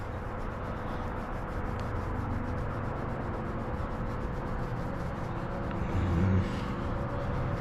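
Steady rubbing of adhesive residue from a removed badge on a Dodge Charger 392 Scat Pack widebody near the tail light, a continuous close scrubbing texture with a slight swell toward the end.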